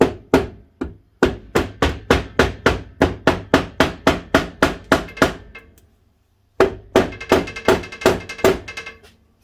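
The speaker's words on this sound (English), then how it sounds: "You've got the magic hammer. Yep. So you need to just do tappy taps to bring it down." Steady, evenly spaced hammer taps ring out close and loud on a Polaris Ranger 570 EFI gearbox being rebuilt with a worn bearing, about twenty strikes, a pause, then another quick run of blows.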